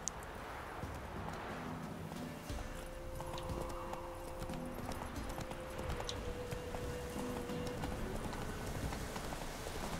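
Horse hooves clip-clopping in The Witcher 3 video game, a steady trot under a continuous wash of ambient game noise and a soft tonal hum through the middle.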